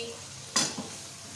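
One brief scrape and sizzle as a spoon stirs masala spices frying in oil in a pan for fish curry, followed by a soft knock, otherwise quiet.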